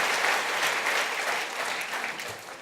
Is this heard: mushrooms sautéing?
no